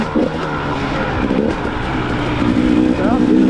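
A KTM dirt bike engine runs at a hare scramble race, a loud, steady buzzing drone with shifting pitch, heard close from the rider's position, with wind rush and a voice talking over it.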